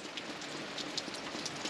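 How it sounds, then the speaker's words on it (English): Rain falling steadily outside a camping tent at a low-cost campsite in New South Wales, a soft, even patter with scattered faint drips throughout and no voices. "Coupled with a cup of tea, listening to that rain."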